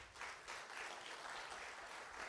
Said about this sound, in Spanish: Por favor, un fuerte aplauso para Monse.